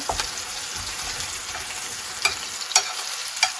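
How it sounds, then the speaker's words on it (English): A salmon fillet pan-searing over the heat gives a steady, even sizzle with a few brief sharper crackles and spits near the end. "the fish fillet is still being cooked on the heat"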